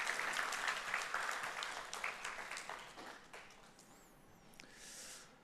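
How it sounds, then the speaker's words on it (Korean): A church congregation applauds the choir during a Sunday worship service, clapping that starts fairly full, then thins and trails off over a few seconds, followed by scattered small sounds. "하나님께 영광과 찬양대 격려의 박수 한번 다시 할까요?"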